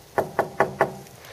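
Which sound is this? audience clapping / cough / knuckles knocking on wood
knuckles knocking on wood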